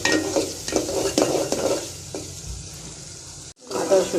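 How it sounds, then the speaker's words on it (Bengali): Ginger-garlic paste frying with shrimp in a pan, giving a close, continuous sizzle with clattering stir strokes against the pan and one short gap before the sizzling resumes. "রসুনটা ভাজা হয়ে গেছে"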